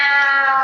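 A person in an audience mimics a cat with a short, loud, drawn-out meow of clear harmonic tone, heard alone.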